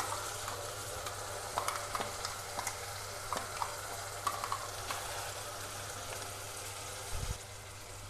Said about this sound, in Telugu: మనకి మసాలా అంతా పచ్చి వాసన పోయే వరకు వేయించుకుందాం